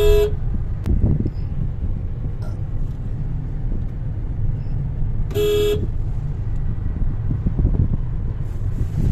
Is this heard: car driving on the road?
yes